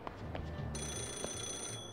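A payphone rings in the Yakuza 0 game world, a steady electronic bell tone starting partway through and continuing, with faint background game ambience and music beneath it.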